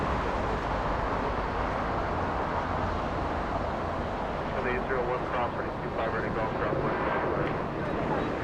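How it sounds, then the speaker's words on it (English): A Cessna 680 Citation jet at Los Angeles International Airport gives a steady, loud broadband roar throughout, with a person talking over it in the second half. "Cessna 680 citation heading to Concord."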